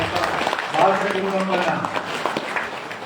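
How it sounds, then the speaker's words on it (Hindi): Audience clapping at a community meeting, a loud dense patter of hands mixed with a speaker's voice and crowd murmur, continuing for a few seconds. "उसके लिए हम ताली मारिए"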